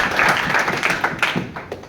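Audience clapping for a guest at a gathering, a dense, steady round of applause throughout with scattered sharper claps standing out.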